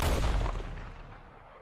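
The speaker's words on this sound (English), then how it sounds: "Oh, gunshot." A single booming gunshot in Red Dead Redemption 2 game audio, loud at the start and then rolling away in a long fading echo.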